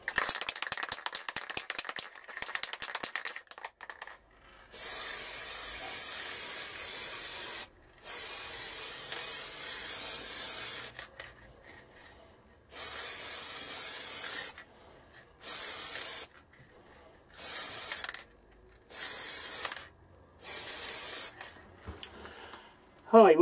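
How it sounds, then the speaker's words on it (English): Spray bursts of lacquer misting onto a turned ebony and gold 11-inch wooden platter, a run of loud hissing blasts of a few seconds each with short silent gaps, after a stretch of quieter rattling handling. "Giving this now three coats of lacquer, got a nice finish on there, nice and smooth, no runs or anything like that."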